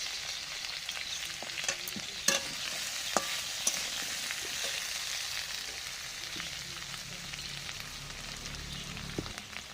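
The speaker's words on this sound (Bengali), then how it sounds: "আদা বাটাটা দিয়ে আরও কিছুক্ষণ কষিয়ে নেব।" Ginger paste stir-fried with fried potatoes in a pan, a continuous close sizzle with scattered clicks and scrapes of stirring, alone without voices.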